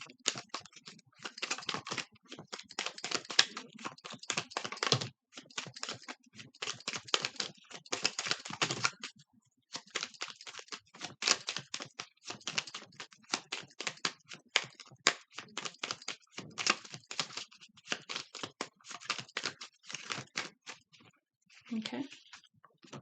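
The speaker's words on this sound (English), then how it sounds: "this is the last time I'm shuffling" Tarot cards are shuffled over and over, dense bursts of rapid crisp flicking and riffling close by, broken by brief pauses, with no talk.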